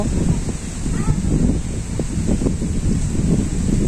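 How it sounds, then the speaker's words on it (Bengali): Strong wind gusts across a Bangladeshi village on an overcast day, a steady, loud rumbling roar buffeting the microphone for the whole stretch, with a faint rustle above it. "এই পরিস্থিতি, বাতাস।"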